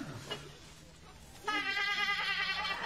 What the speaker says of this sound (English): It sounds like a sheep.